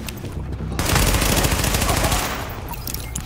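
Rapid automatic gunfire in Tom Clancy's The Division, a dense, loud burst of shots lasting over a second amid the game's combat noise.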